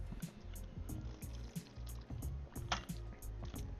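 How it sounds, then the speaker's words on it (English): A person drinks water in a few quick gulps during Pokémon battle commentary, the swallowing close and fairly loud over a steady low background hum with no talking. "Sorry to take a drink of water,"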